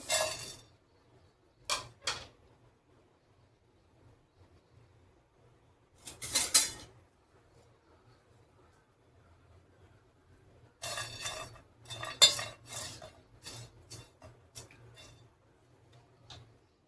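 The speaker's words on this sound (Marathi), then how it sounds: "आता आपण भाजीसाठी लागणारे मसाले भाजून घेऊया। सगळ्यात पहिले खडे मसाले।" Whole spices are dry-roasted in a pan, with sporadic bursts of rattling and scraping as they are stirred and tossed, separated by quiet stretches over a faint low hum.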